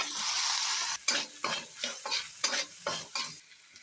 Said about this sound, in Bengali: আদা জিরেতে ভালো করে নাড়বো, একটু ক্যাপসিকামও দিচ্ছি